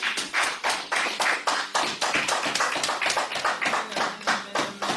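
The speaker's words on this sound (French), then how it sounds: "Acclamons la parole du Seigneur." A church congregation claps together in acclamation after a Bible reading, a steady, close round of many hands beating in loose rhythm for the whole stretch, with no talking over it.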